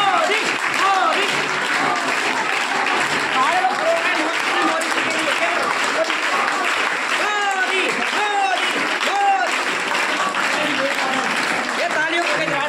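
Loud, dense applause from a large crowd at a political rally fills the whole stretch, steady clapping with voices shouting and calling out over it.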